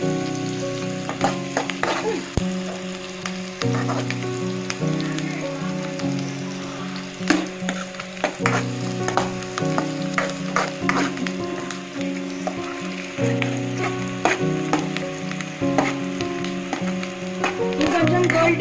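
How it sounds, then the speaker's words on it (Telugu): Onions frying on high heat in a pan for prawn curry give a continuous crackling sizzle with occasional stirring clicks, all beneath steady background music. "కొంచెం సేపు హైలో పెట్టుకొని ఫ్రై చేసుకోవాలన్నమాట. ఆనియన్స్ గోల్డెన్ కలర్లో వచ్చే వరకు ఫ్రై చేసుకోవాలి."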